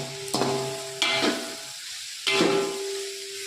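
Raisins and nuts frying in ghee in a pan over a low gas flame, a soft continuous sizzle broken by three sharp stirring scrapes, close and steady, with no talk.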